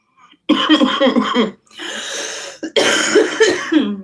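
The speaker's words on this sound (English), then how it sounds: "Let me get back past the stoner cough." A burst of harsh, repeated stoner's coughing, close and loud, in three rough spells separated by short gasping pauses.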